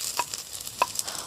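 Finely chopped ginger sizzles in hot coconut oil in a pan, a soft steady frying hiss with a few light stirring taps, close and without talk.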